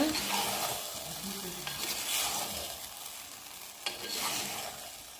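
Aloe vera chunks stirred and frying in a pan for a traditional Tamil tamarind curry, steady sizzle broken by repeated scraping stirs, close and fairly loud, no talk.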